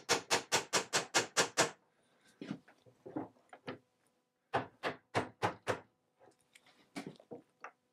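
Hammer blows driving nails back into the original holes of a rustic wooden chest joint during repair: a fast run of eight sharp taps, then scattered lighter knocks and a second quick burst of strikes, close and alone.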